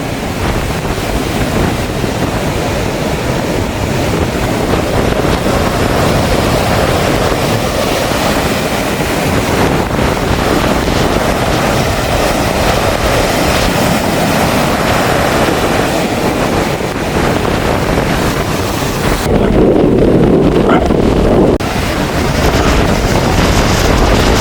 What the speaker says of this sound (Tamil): இப்போ பாருங்கள் இவ்வளோ அலைகள்னு சொல்லி இதில் தான் பாருங்கள், இதெல்லாம் அடித்து மேலே வருது தண்ணி